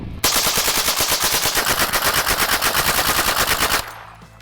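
A custom Tommy gun fires one long full-auto burst of about three and a half seconds, loud and close, a rapid even stream of shots that cuts off sharply.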